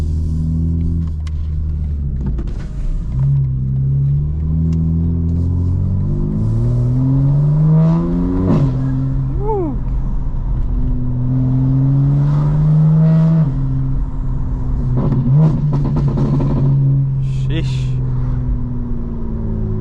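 A 900 hp 2025 BMW M4 Competition with a turbo engine drives at sunset in North Georgia, its steady rumble rising and falling through gear changes and accelerations, heard from inside the cabin with a voice talking over it.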